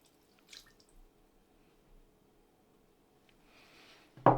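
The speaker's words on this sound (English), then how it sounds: "we put the brandy in now, when there is no chance that any of the alcohol can be evaporated." Brandy poured into a pot of mulled wine: faint, sparse liquid trickles and drips through a quiet stretch, ending in a short, louder splash as the spirit goes in.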